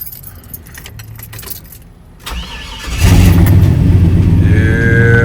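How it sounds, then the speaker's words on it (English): Keys jangle, then the LS-swapped Chevy OBS truck engine cranks and fires, settling into a loud, rumbling idle close by. "Let y'all hear it crank up for a little bit."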